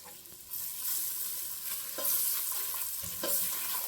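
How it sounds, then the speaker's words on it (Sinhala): Chopped garlic and onion frying in hot oil while making a potato and brinjal curry, a steady close sizzle with occasional stirring scrapes, swelling louder in short bursts. "තෙලේ මේක බැදුනාට පස්සේ දැන් මම මේකට ඉස්සෙල්ලා එකතු කරනවා කපාගත්තු"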